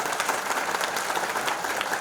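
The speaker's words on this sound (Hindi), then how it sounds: "हुए सभी लोग एक बार ताली से इनका स्वागत करिए।" A gathered crowd at a Hindi-speaking public event claps to welcome a guest, a continuous wash of many hands applauding at close, even loudness with no voices over it.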